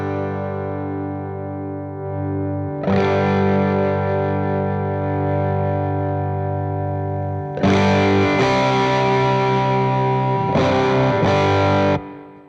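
Sonicake Matribox multi-effects unit running its Tape Mod block, a vintage tape saturation simulator adding warm distortion to sustained electric guitar chords, loud and alone, with fresh strums ringing out several times.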